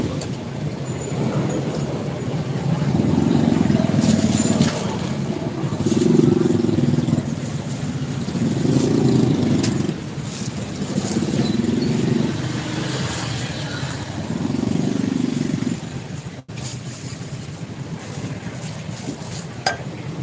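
Motorcycles pass on the road beside a beef pares street food stall in Naga City, Philippines. Low engine swells rise and fade about five times over a constant roadside background.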